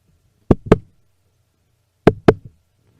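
A heartbeat sound effect plays during a wrestling entrance: two deep double thumps, lub-dub, spaced about a second and a half apart, loud and isolated against silence.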